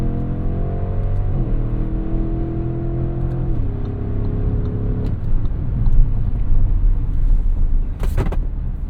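A 2025 Audi SQ7 engine drones steadily, dropping in pitch in a few stepped downshifts, then rising as it revs up again, close and loud throughout.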